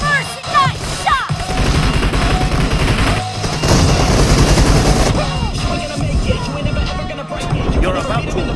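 Assault rifle gunfire in a team-based shooter video game, loud and dense, with rapid bursts running almost continuously under game announcer calls.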